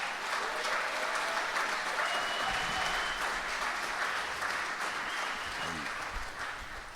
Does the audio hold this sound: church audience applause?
yes